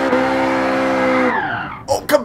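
A Ferrari F40 engine in Gran Turismo Sport holds a loud, steady high rev at the race start, then drops away as the car launches, with a voice talking over the end.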